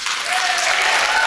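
An audience at a school district meeting claps loudly and densely, the applause held evenly throughout.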